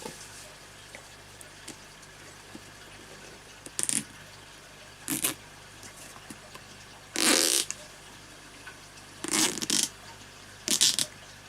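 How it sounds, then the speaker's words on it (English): Rubber and straps of an Israeli M15 gas mask rustling and creaking as it is pulled on and adjusted, several short bursts of handling noise separated by quiet pauses. "Okay, so let's get this mask on."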